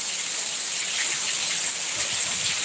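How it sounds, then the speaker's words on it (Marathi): Heavy rain pours down steadily in a jungle-edge village during a downpour, a dense, even hiss of drops that stays loud and unbroken throughout, with no voices. "बघा जोरदार पाऊस पडायला"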